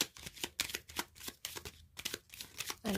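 Lenormand cards shuffled and drawn by hand, a quick series of soft, close riffling and flicking sounds in an uneven rhythm, alone and fairly faint.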